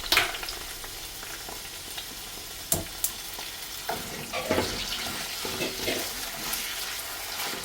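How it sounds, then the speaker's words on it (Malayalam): Potatoes, beans and carrot sauteing in oil, a soft continuous sizzle with occasional scraping and clinking of a utensil against the pan, fairly quiet and close, no talking. "ഇത് നമുക്ക് എണ്ണയിൽ ഇട്ടിട്ടൊന്ന് വാട്ടിയെടുക്കാം"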